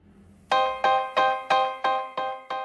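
A phone rings with a bright, bell-like electronic tone repeating seven times in a steady rhythm, each ring decaying before the next, loud and close with no talking.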